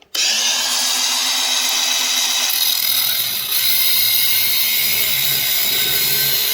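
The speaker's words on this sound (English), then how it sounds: "We're going to have to drill it out." A loud, close power drill grinds steadily through metal, drilling out a broken stud, its harsh rattling whine continuing with only a brief dip in intensity.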